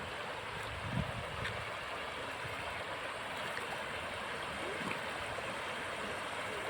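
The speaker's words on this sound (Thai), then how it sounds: "มาเจอน้ำไหลค่ะ น้ำไหลสวยงามมากเลย" Water from a stream flows steadily past rice fields, a continuous broad rushing wash with low gurgles, moderately close and unbroken, with no voices.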